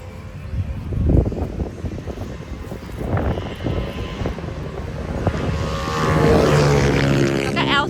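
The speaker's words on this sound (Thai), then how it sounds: "มาพร้อมท่อลั่นนะคะเนี่ย" A 2012 Kubota L3608 tractor with a 36-horsepower three-cylinder engine and a loud aftermarket exhaust idles with a steady, coarse rumble that swells louder near the end, while someone talks over it.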